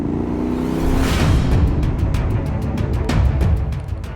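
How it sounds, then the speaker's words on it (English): A KTM 990 Adventure R motorcycle engine roars loud and close, rising into a hard rev with rapid rhythmic pulses through the second half and a rough rumble throughout. "It's an angry bike with an angry engine."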